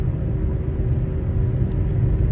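Steady, low car engine drone and road rumble from inside a moving car while driving around and waiting on delivery orders, continuous and unbroken with no talking.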